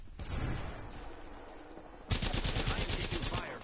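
Rapid automatic gunfire in a video game, a loud dense burst of shots that starts suddenly partway through and hammers on for over a second, preceded by a softer rumble of combat noise.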